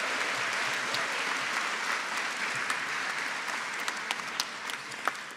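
Sustained applause from a graduation ceremony audience at MIC for the B.Ed in Education and Psychology class of 2021, a steady even roar of many hands, with a few sharper individual claps standing out near the end.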